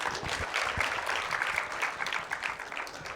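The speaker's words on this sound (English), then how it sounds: "Can we have a round of applause for Twinkle, please?" A crowd claps steadily for a few seconds, a dense, continuous patter of many hands with no voices rising above it.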